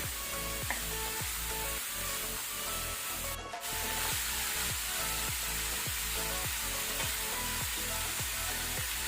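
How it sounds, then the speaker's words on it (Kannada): Bitter gourd sizzling steadily in a pan on medium flame, a dense continuous frying hiss with regular scraping strokes from constant stirring, close and loud throughout. "ಒಂದು 2 ಮಿನಿಟ್ಸ್ ಇದನ್ನು ನಾವು ಮೀಡಿಯಂ ಫ್ಲೇಮಲ್ಲಿ ಫ್ರೈ ಮಾಡ್ಕೊಳ್ಳೋಣ. ಈ ರೀತಿ ಕಂಟಿನ್ಯೂಸ್ ಮಿಕ್ಸ್ ಮಾಡ್ತಾ ಮಾಡ್ತಾ ಫ್ರೈ ಮಾಡ್ಕೊಳ್ಳುವ."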